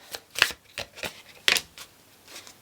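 A tarot card deck being shuffled by hand: a run of short papery riffles and flicks, close and fairly quiet, with a couple of sharper bursts and no talk.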